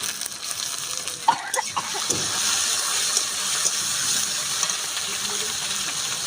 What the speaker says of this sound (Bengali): আমি এবারে ঠান্ডা জলের থেকে ছেঁকে জল ঝরাই।